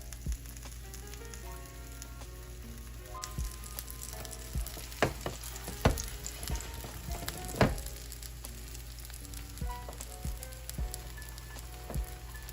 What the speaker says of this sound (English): So let's go ahead and fry up some of these scallion cakes.